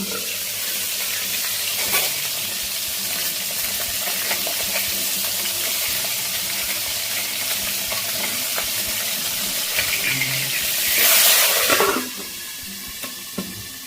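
Pabda fish frying in a covered pan, a steady dense crackle and spatter throughout, with a louder hiss burst near the end as the lid comes off.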